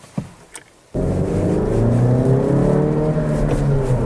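A 2017 Honda Civic Hatchback starts moving after a couple of small clicks, its engine rising into a steady loud drone with road noise from inside the cabin, no talking.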